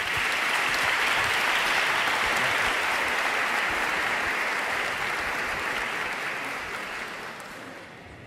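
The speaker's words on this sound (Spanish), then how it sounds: "Sin más preámbulo, un fuerte aplauso y la palabra la tiene él." A large audience at a faith talk in Cartagena, Spain, gives Padre Ángel a strong, sustained round of applause that holds loud and even before gradually fading toward the end.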